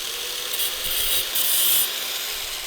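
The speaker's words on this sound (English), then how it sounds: "Just gonna grind that off." An angle grinder cutting off a chain link while a Jeep Cherokee XJ chain and sprocket drive is being reworked, giving a steady high whining grind that swells briefly and continues close and loud without pause.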